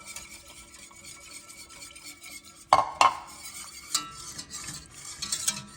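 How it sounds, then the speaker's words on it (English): Milk being stirred into a flour roux in a pan, with soft continuous scraping and swishing and a few sharper knocks of the utensil against the pan, close by and fairly quiet. "We want to get that roux all mixed in."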